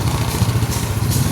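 A motorcycle fitted with a GPS anti-theft device, an Adventure X, runs close by with a steady, loud, chugging engine throb and no voices.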